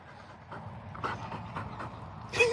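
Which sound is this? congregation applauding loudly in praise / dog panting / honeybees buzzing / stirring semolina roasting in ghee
dog panting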